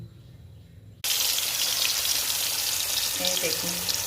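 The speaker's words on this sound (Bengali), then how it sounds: "প্রথমে বন্ধুরা আমি কুমড়ো ভেজে নিচ্ছি।" Oil bursts into a loud, continuous sizzle after a second of quiet as pumpkin pieces hit the hot pan, crackling steadily close by.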